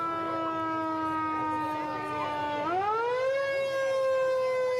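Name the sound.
parade sirens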